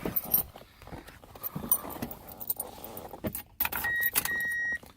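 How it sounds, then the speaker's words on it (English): Keys jangle in the ignition of a 1999 Mazda Miata before the engine catches and settles into a steady idle, close and fairly loud, with no one talking. "let's go ahead and start the car"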